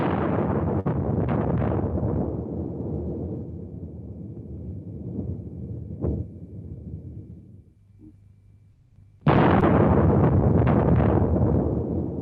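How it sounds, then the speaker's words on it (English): A huge bomb dropped by a Russian bomber in 1961, equal to over 50 million tons of TNT, explodes as a deep, sustained roaring rumble. The rumble fades low, then erupts again into a loud, continuous roar. "The explosion was the equivalent of more than 50 million tons of TNT, more than all the explosives used in World War II."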